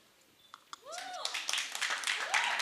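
Audience applause at the Hero film music launch: a couple of isolated claps, then dense crowd clapping swells up with whistle-like cheers rising over it, sustained and fairly loud to the end.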